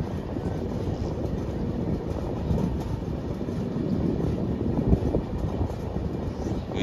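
East Coast Express train 18046, the Hyderabad to Shalimar service, rumbles along a line near Vijayawada, a steady loud roar of wheels and carriages continuing throughout without voices.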